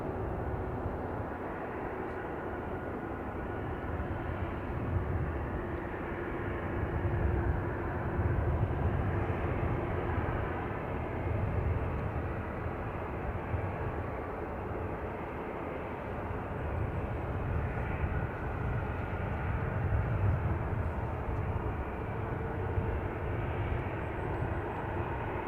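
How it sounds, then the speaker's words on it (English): A 16-year-old Aer Lingus Airbus A320-200 bound for Dublin passes at Manchester Airport, its engines a broad, sustained roar that swells and eases gently over the whole stretch. "we've got a Aer Lingus. Airbus A320-200, registration EIGAL. This one is going to Dublin."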